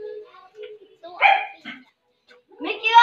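A dog gives a few short, close barks and yips in a brief burst, mixed with excited voices talking nearby.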